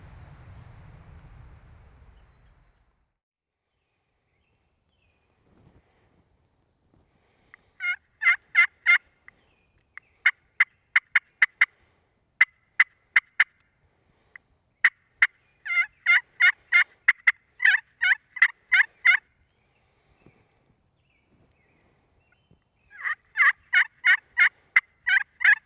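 Wild turkeys gobble in repeated bursts across a quiet riverside morning, clusters of rattling gobbles coming at irregular intervals from a moderate distance, with long silent gaps between them.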